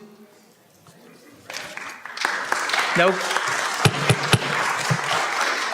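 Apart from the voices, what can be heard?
audience clapping at city council meeting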